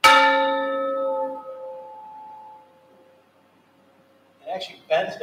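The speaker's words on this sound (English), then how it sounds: "I'm going to hit it just the way it normally sounds. So it sounds like a doorbell, maybe a chime or something like that, or a church bell." A metal chime struck once in open air rings out with a bright, bell-like tone and a long decaying sustain, alone for about four seconds before a voice begins talking over the fading ring.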